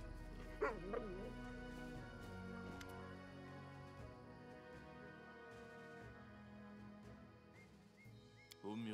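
Dog barks, whimpers and yips in the fantasy role-playing game Pathfinder: Kingmaker, a short yelping burst early on, over a steady bed of game music and ambience that continues throughout.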